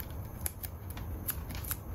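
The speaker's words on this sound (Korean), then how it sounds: "밑에 양면 테이프를" Double-sided tape is applied to the back of a drawing of a polar bear, with soft crackly peeling and pressing sounds, several brief dry ticks, close and faint, without speech.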